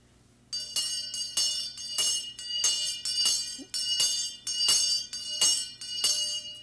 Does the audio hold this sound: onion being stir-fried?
no